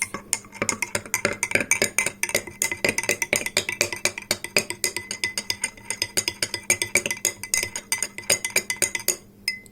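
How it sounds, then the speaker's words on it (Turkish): A spoon stirs iced coffee sweetened with powdered sugar in a glass, giving a steady run of quick, close, bright clinks against the glass that continues almost without pause. "İyice şöyle karıştırıyorum çünkü diplere bazen pudra şekeri veya kahve düşebiliyor."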